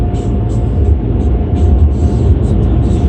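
Powerful dryers at an Esso touchless car wash in Kirkland, QC blast air over a car in a loud, steady, roaring rush with deep rumble and airy hiss.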